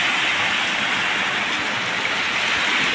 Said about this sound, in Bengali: অনেক বৃষ্টি হচ্ছে গো অনেক বৃষ্টি হচ্ছে